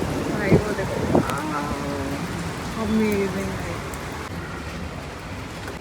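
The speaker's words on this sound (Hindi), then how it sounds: "एकदम से इतनी तेज़ बारिश स्टार्ट हो गई ना भाई" Heavy rain pouring suddenly during Gurgaon weather, a dense steady hiss of drops on surfaces with a few sharp knocks, while a person talks briefly over it.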